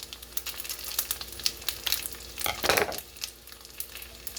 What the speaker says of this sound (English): Add the chili oil.